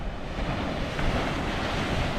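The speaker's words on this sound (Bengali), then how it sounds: "দেখুন এখানে সমুদ্র কি তোলপাড় করছে" Rough sea surf churns loudly and steadily at the Fraserganj fishing harbour near Bakkhali, with wind buffeting the microphone throughout.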